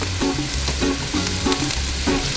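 Garlic paste sizzles loudly and close in olive oil on a Blackstone griddle top. Rhythmic scraping strokes from spreading it around repeat about every half second over the hiss.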